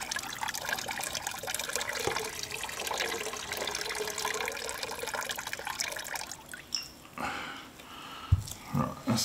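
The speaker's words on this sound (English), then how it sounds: "take the jar and add the brine into the jar" Brine poured into a jar of ingredients for fermented hot sauce, a steady liquid stream and trickle running for several seconds before tapering into a few drips and small splashes near the end.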